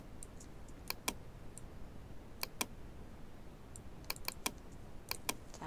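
Computer keyboard keys, including Shift and Ctrl+T, pressed during Photoshop work: scattered sharp, light clicks in small bursts and single taps over quiet room tone.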